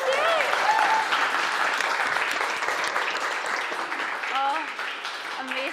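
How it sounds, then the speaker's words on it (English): An audience claps and cheers in full, sustained applause at a social purpose marketing event, loud at first and tapering slightly, with excited voices and whoops mixed in. "a round of applause"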